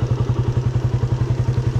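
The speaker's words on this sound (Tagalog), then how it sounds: "So papainitin lang muna natin yung makina" A Suzuki Raider 150 motorcycle engine warms up at idle, a steady close thumping pulse with an even rhythm of about eleven beats per second, loud and alone with no talk.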